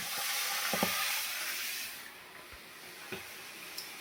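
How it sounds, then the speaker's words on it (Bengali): A fish head fries in hot oil, giving a steady close sizzle and hiss that fades partway through, punctuated by a few sharp pops and clicks. "এখানে মাছের মাথা ভাজি করতে দিয়েছি"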